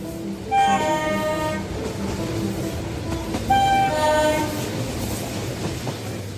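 A cartoon train runs along with a steady rolling rumble, while two drawn-out horn-like whistle blasts sound about three seconds apart.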